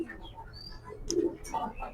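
A male racing pigeon gives a soft, low coo close by, one brief throaty call in the middle with a couple of faint chirps and light rustling around it.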